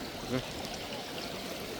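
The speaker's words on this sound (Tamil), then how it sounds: "பின்ன பாருங்க நிறைய தண்ணி ஓடிக்கொண்டிருக்கு பாருங்க." Floodwater rushes past a bridge after rain, where soldiers are sandbagging. A steady, broadband watery roar fills the whole moment, with one brief tonal blip near the start.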